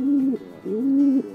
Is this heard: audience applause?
no